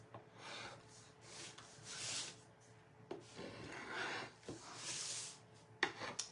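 Scraper rasping over waxed wood, chipping paint off in uneven bursts of dry scratching with short pauses and a few sharper knocks near the end, close and moderately loud.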